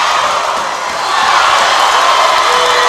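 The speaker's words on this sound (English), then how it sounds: "Oh my, Knott County crowd don't like that, pal." A high school girls' basketball crowd in a packed gym reacts with displeasure, a broad, loud roar of many voices that dips briefly and then swells again.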